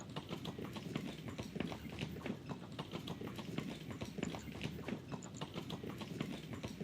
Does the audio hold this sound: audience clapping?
no